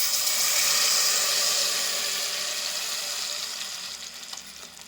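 A halwa mixture is poured into hot ghee spiced with cinnamon and cardamom and stirred, giving a loud, bright sizzle at first that slowly fades while stirring continues.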